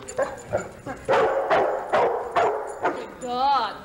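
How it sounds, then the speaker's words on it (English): A Labrador retriever trained to sniff beehives for disease barks excitedly in a series of sharp, close yips and woofs, roughly one every half second, ending in a rising whine, with a person talking over it. "The barking doesn't really mean anything other than he's excited."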